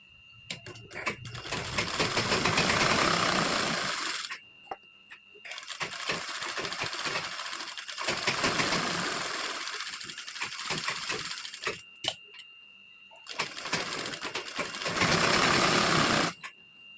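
A sewing machine runs a thin line of stitching along a blouse neckline in bursts of rapid mechanical chatter, three long runs separated by short pauses, close and clear.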